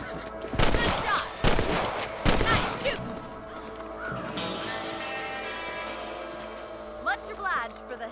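Gunfire shooting rabbits in the video game Red Dead Redemption: three loud sharp shots in quick succession, followed by quieter ambient game sounds and faint movement.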